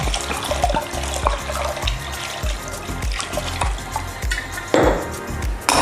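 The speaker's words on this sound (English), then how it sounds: "And then running some water over the top." Tap water pouring over soaked mung beans in a bowl or strainer, a constant splashing and gurgling stream with bean-rattling clicks, close and steady throughout.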